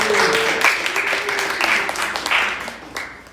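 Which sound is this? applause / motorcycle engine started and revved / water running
applause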